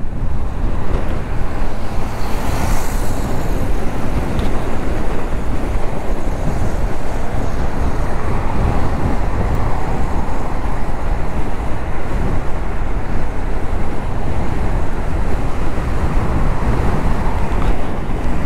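Steady, loud wind and traffic roar while riding a Voltz EV1 Sport electric scooter along an expressway, with broadband rushing noise running continuously throughout and no talking.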